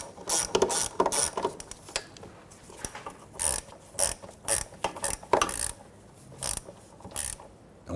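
A ratchet clicks in quick bursts while tightening a heat shield fastener on a 1992-1996 Toyota Camry during parking brake cable work, with loud close ratcheting runs separated by short pauses.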